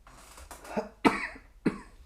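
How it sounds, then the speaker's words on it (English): Three short, close coughs, spaced about half a second apart, with no talking. "Excuse me, now I'm coughing."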